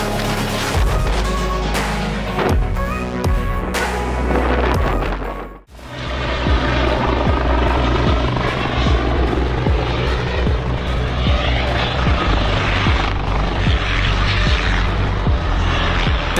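A helicopter roars close and loud with a dense rotor and engine noise, briefly cuts out, then returns as a steady, throbbing drone that holds to the end.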